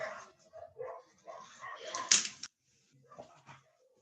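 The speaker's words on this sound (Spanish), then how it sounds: "No, perro aquí." A dog barks and whimpers in a short series of yips and whines nearby, heard indoors during a math lesson on polar equations.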